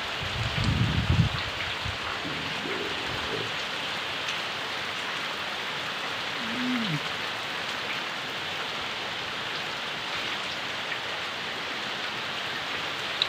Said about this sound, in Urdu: وہ جی طوفانی بارش ہو رہی ہے طوفانی